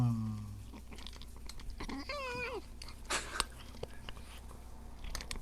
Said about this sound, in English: I got close up to one of my cats having dinner once